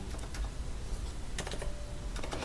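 Someone types a colour code on a computer keyboard, producing a quick run of close, crisp key clicks in an uneven rhythm with no speech.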